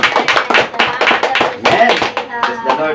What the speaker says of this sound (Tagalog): Sabay-sabay po tayo palakpak sa ating dakilang Diyos.